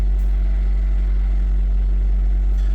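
Honda CR-V engine idling smoothly after a valve lash adjustment to cure a misfire, a loud, steady, even low hum heard up close with no talk over it.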